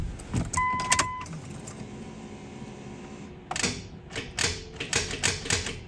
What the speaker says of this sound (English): See what I mean about the starter just clicking?